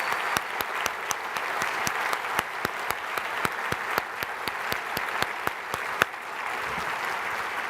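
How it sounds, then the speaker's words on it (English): Audience at the Grand Challenges 2014 conference applauding, a steady, dense round of clapping with sharp individual claps standing out, then trailing off near the end. "I think it'd be cool if we gave them a round of applause."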